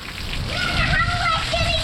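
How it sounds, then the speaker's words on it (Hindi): Heavy rain pours steadily, a dense close wash of drops and splashes, with faint voices in the background. "बारिश अब भी माशाल्लाह से बड़ी ज़ोर शोर से चल रही है।"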